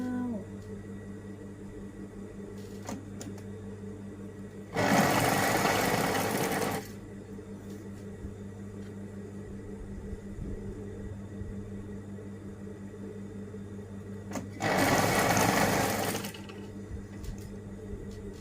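A sewing machine hemming trousers runs in two short whirring bursts of about two seconds each, well separated, close and fairly loud over a steady low background hum.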